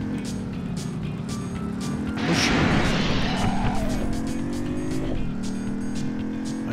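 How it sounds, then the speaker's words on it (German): Cars crash together in the video game Driver 2, with a broadband impact burst and scraping over a steady engine drone and tyre squeal, then lighter knocks, all near and fairly loud. "müssen wir mehrere Autos kaputt fahren"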